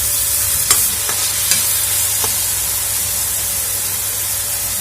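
Soybean chunks stirred in a hot frying pan, a strong steady sizzling hiss with a few light spatula scrapes and taps breaking through in the first couple of seconds.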